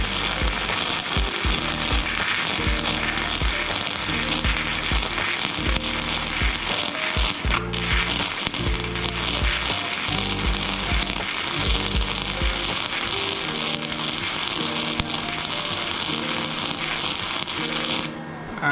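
A Harbor Freight welder lays weld beads on a Miata's custom muffler, a continuous harsh crackling and sizzling for nearly twenty seconds, loud and close, with rapid irregular pops before it cuts off abruptly.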